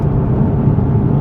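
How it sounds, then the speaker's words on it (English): A Corvette C6 ZR1 supercar's exhaust rumbles steadily and close, a dense low-pitched drone with no break over a brief moment. "Man, that exhaust note, it's nothing like it."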